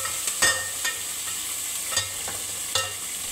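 Green chillies stir-fry in masala paste, a soft continuous sizzle broken by a few sharp scraping strokes of a spoon against the pan, close and fairly quiet.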